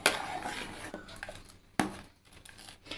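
A spoon stirs thick erissery curry with lentils in a pot, giving a few sharp knocks against the pot's side between soft sloshing scrapes.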